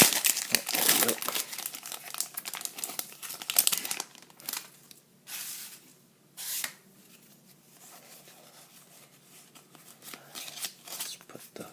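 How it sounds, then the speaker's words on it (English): An old Pokémon Diamond & Pearl Stormfront booster pack's stiff foil wrapper crinkles and tears in loud, close bursts, then gives way to quieter rustling and intermittent crackles. "These are the old packs that are really hard to rip."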